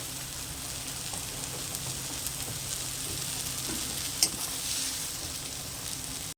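Soybean chunks sauté in a hot pan, giving an even, steady sizzle with light stirring scrapes and one sharp clink near the end.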